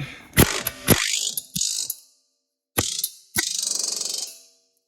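Vice grip clamps being tightened on an inner tie rod end, a few sharp metallic ratcheting clicks followed by a short run of rapid clicks, close and loud with no talk.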